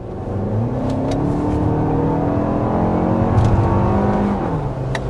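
A 2024 Lexus TX 350 four-cylinder SUV accelerating, a steady loud engine drone with rising tone heard from inside the cabin, smooth and continuous with no talking.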